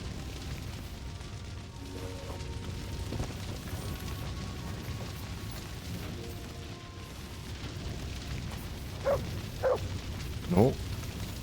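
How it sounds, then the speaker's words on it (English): A dog barks in the medieval video game Kingdom Come: Deliverance 2, three short sharp barks late in the passage over a steady low game ambience and background hum. "Good dog, Mutz"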